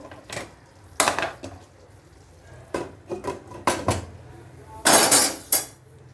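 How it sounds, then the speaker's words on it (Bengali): Homemade pasta is stirred in a metal pan and covered with a lid: sharp clanks and scrapes of utensil against pan, a few scattered knocks, then a loud clatter as the lid goes on. "ভালো করে নেড়ে চেড়ে দিয়ে আবারও একটু ঢেকে দেব"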